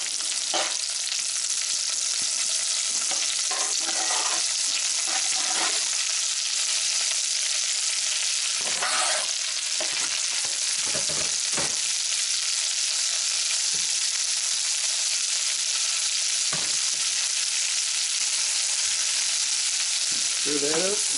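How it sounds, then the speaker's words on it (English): Chopped onion frying in a few tablespoons of bacon grease for burger bacon jam, a steady loud sizzle running throughout with occasional scrapes and clinks of stirring. "you only want about 2-3 tablespoons of bacon grease in there. To that we're going to throw in"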